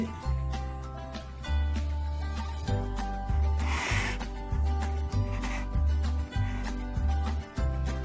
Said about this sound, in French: Là, je peux commencer à mettre l'œuf. À reprendre ma spatule, bien mélanger.